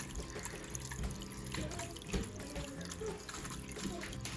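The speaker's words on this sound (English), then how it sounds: "So our water is running" Water running and trickling into a Top Fin 10 gallon aquarium from a starter kit filter, a faint continuous splashing with small drips and bubbles throughout.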